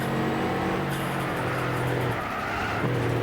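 Racing car from the video game Gran Turismo 6, with a steady, loud mechanical engine drone and screeching tire squeal from skidding, no voices.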